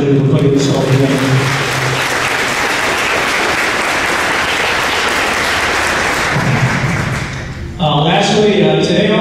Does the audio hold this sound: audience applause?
yes